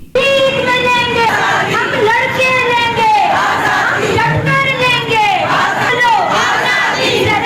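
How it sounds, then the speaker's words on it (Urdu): A crowd of women at a rights march chants slogans in loud unison, voices rising and falling in repeated shouted phrases, near and continuous with general crowd noise beneath. "جبکہ اپنے حقوق کے لیے نعرے بھی بلند کر رہی تھیں۔"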